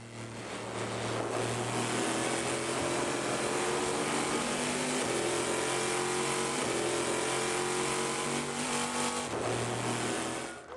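Number 73 Corvette race car at the 24 Hours of Le Mans, a loud continuous engine roar with steady pitch and slight shifts, heard alone without talk throughout.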